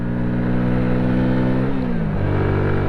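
Chinese Lifan engine fitted to a Honda C90 motorcycle runs steadily close up, a loud, even, buzzy mechanical drone whose pitch dips slightly as the revs ease partway through.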